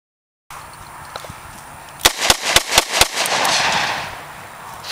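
A rapid string of about seven sharp gunshots, loud and close, ringing out one after another over a low background hiss, followed by a lingering rumble.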